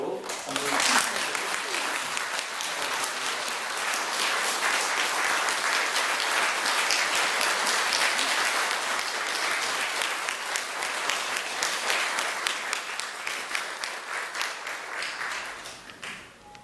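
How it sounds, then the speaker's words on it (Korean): A church congregation at an anniversary Sunday worship service breaks into sustained, loud applause that holds for about fifteen seconds before tapering off, with a voice speaking over it. "우리 하나님께 영광 돌리는 박수로 한번"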